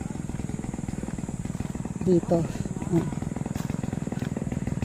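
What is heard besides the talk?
chainsaw cutting mahogany tree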